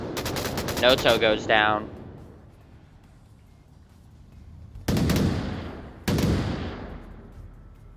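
Gunfire in a competitive video game match: a rapid burst of automatic shots, then two loud single blasts with long echoing tails, alongside a commentator talking.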